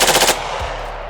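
A rapid burst of about four or five sharp shots from an AR-15 fitted with a forced reset trigger, close and loud, then a quick decay into quiet.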